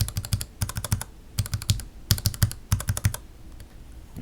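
Fingers type on a mechanical keyboard with Gateron Yellow switches in quick bursts of close, crisp clacks, with short pauses between the runs of keystrokes.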